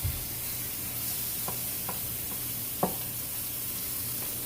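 Steady sizzling of meat frying in a hot pan for a carnivore dinner, a continuous close hiss broken by a few faint taps and one small thud as food lands.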